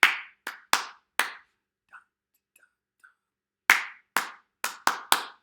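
Two phrases of crisp, close hand claps in a clap-back game, four claps then a gap with faint whispered sounds, followed by another quick run of five claps.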